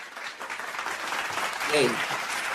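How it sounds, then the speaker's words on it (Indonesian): Applause for the invited speakers at a seminar or talk session fills the room as a steady wash of clapping, with a voice speaking over it partway through. "beri tepuk tangan yang meriah untuk para narasumber kita"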